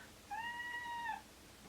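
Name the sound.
cat meowing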